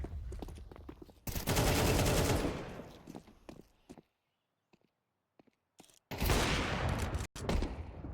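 Bursts of automatic gunfire in a Counter-Strike 2 esports match, two loud sustained volleys separated by a quiet stretch with scattered faint clicks and single shots, ending in short sharp bursts.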